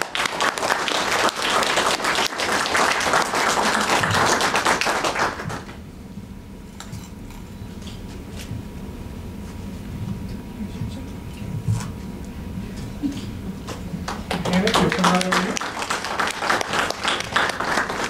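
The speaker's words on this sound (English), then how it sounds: "I think everybody owes Hannah a round of applause" At a HearStrong Champion Awards ceremony in East Tennessee, an audience claps loudly for a few seconds, then quiets into murmuring and soft talk before a second burst of applause with whoops near the end.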